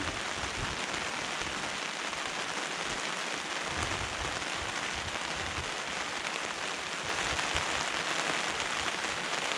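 Steady rain pours down on a surface, a dense, constant hiss of drops close by with no voices, growing slightly heavier near the end.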